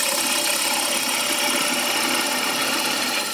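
A gouge cuts wood on a lathe while turning a sword, a loud continuous hiss and whir of the spinning workpiece and blade with no break.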